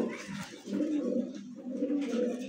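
Pigeons, including a large breed, coo softly in a loft or cage with nesting birds, a low continuous murmuring of overlapping coos with brief pauses, close and moderately quiet.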